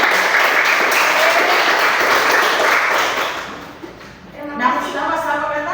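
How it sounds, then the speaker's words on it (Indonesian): Classroom of children clapping their hands together in a dense, loud burst that fades out midway, followed by a teacher's voice speaking. "mari kita tepuk tangan yang baik"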